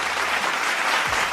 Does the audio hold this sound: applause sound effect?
yes